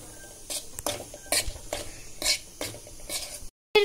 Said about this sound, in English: Now stir it again.